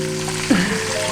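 Food frying in a pan at home, a short steady sizzle with a brief louder burst partway through, heard alone without talk.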